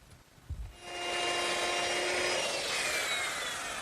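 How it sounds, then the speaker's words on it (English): Power drill boring a bolt hole through a wooden wagon piece, a brief knock and then a steady rising whine with rough wood-cutting noise, close and alone. "Now there's one more hole to drill in this piece, right in the center."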